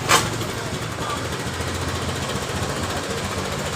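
A Honda Beat scooter engine with a fault that makes it lose power and stall idles with a faint, even, rattling hum after a brief burst at the start, with a voice talking in the background.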